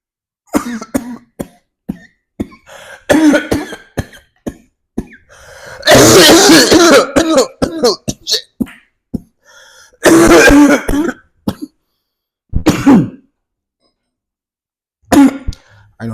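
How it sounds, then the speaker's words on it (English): A person coughs and clears their throat repeatedly in close, harsh bursts separated by short pauses, with a few louder hacking fits. "I knew I was gonna cough after that last one."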